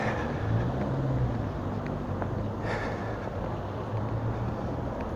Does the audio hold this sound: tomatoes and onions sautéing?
no